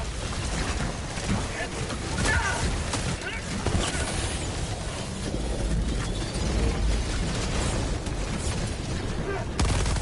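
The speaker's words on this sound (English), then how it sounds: "Let me throw some nades at him." Grenade explosions in the Helldivers 2 video game, a dense barrage of loud booms and blasts that continues throughout with little let-up, mixed with game noise and occasional talk.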